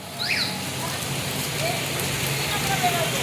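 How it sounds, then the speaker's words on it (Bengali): Heavy rain pours outdoors at a roadside market as vendors pack up, a steady broadband wash of falling water with a faint passing vehicle and brief distant sounds in the background. "এইদিকে দেখো কিরাম বৃষ্টি শুরু হয়ে গেছে।"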